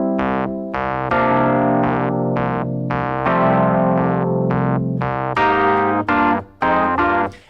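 Piano groove pattern of repeated rhythmic chords, including a slash chord over G, played in short punchy stabs with syncopated entries on the and of four, loud and close with no talking.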